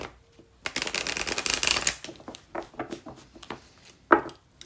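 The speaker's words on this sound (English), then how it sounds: "I'm just going to shuffle these once." Tarot cards being shuffled once, a dense run of riffling and flicking close up, followed by a few scattered soft card taps and a sharper slap near the end, with no talking.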